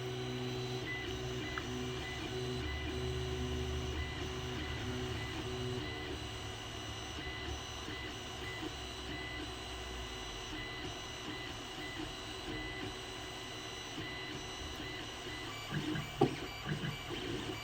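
A Creality Ender 3 3D printer running with a clogging nozzle gives off a faint, steady whir of stepper motors and fans, with soft rhythmic movement ticks and a brief knock near the end.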